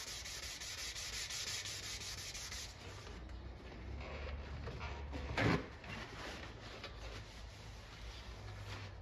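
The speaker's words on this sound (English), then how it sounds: "I don't think you guys wanna watch me wet sand for the next hour" Stainless steel trim from a 1959 Impala convertible being wet sanded by hand with sandpaper: a steady, close rasping rub that continues throughout, with one brief louder scrape midway.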